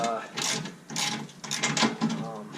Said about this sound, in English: we're gonna start by removing this fender here